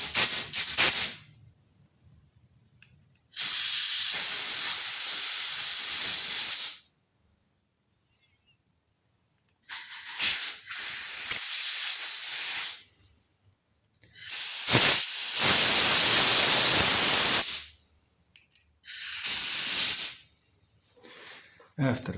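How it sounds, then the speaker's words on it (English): Brake cleaner sprayed in long hissing blasts through a removed Fieldmann chainsaw carburetor, four loud bursts of several seconds each separated by silence and a few short spurts, close up with no talking. "Let it soak in, and then we simply blast it out."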